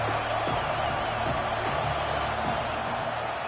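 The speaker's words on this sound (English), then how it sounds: "Here comes the noise from this big crowd in Happy Valley on third down." A big football stadium crowd in Happy Valley roars on third down, a dense, constant wall of distant cheering and noise that fills the whole stretch, with no clear voices standing out.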